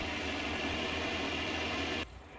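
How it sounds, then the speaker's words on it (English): A tractor engine in Farming Simulator 19 runs at a steady, loud idle with a dense mechanical drone, then cuts abruptly to a much quieter hum near the end. "It's a lovely tractor, it is. The noise is great"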